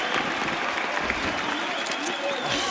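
An esports crowd at a Counter-Strike grand final on Cache claps steadily in dense, continuous applause that fills the arena, with a caster's voice talking over it.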